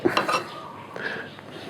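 Cutlery and dishes clink and scrape on a kitchen counter while a bread roll is prepared, a cluster of close clatters at the start followed by softer handling sounds.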